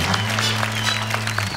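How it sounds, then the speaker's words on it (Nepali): Brief burst of audience clapping at a televised comedy club show, a dense patter of hands lasting under two seconds over a steady low electrical hum. "उहाँको लागि पनि ताली बजाइदिनुहोस्."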